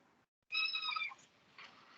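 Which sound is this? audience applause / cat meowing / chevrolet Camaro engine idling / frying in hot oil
cat meowing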